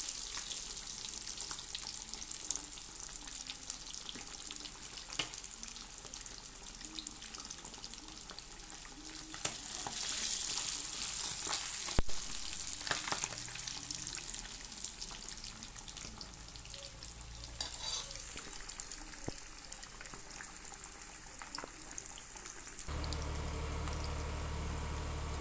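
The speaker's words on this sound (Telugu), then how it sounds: "ఈ విధంగా కలర్ వచ్చే వరకు వేపుకోవాలండి." Fish pieces fry in oil in a pan with a continuous, close sizzle and crackle, occasionally stirred or turned. The sound holds steady for about 25 seconds with no talking.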